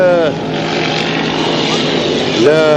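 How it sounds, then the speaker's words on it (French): A loud, high-revving 5-litre class racing powerboat engine roars steadily along the straights, its pitch rising and falling as it passes, with a faint voice underneath. "l'efficacité du moteur de Paul Hewitt en amorce sur les lignes droites."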